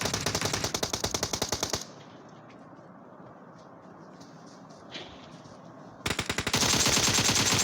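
Rapid automatic gunfire rattles in loud bursts during PUBG Mobile gameplay, one long volley, a quiet gap with faint game ambience, then another sustained burst of shots.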